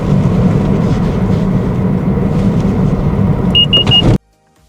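Toyota car in an emergency braking test, a loud steady engine and road rumble inside the cabin, then a few short high beeps just before the sound cuts off abruptly to near silence.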